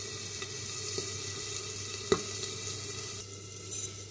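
Onions browning in a pan for baingan bharta, giving a steady close sizzle with faint scattered crackles and one brief stir or clink partway through, with no voices.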